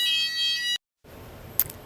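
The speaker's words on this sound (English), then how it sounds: "Oh, my fire alarm's going off." A fire alarm rings a shrill, high electronic tone loudly, cuts off into brief silence, then a quieter room follows with a short sharp beep.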